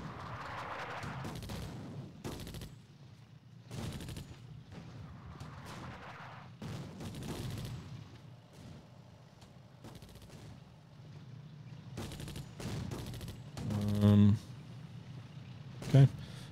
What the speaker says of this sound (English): I want our artillery to bombard these fuckers.